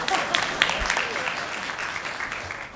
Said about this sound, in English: Yeah, clap now. I want to hear that clap.